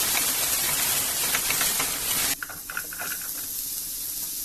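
Small shallots dropped into hot oil with salt for a pumpkin thokku, a loud steady sizzle and hiss that suddenly drops to a softer crackling fry after a couple of seconds, with no voices.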